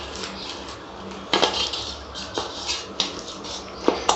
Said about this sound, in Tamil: டைட்டான மூடி போட்டு மூடி வைங்க.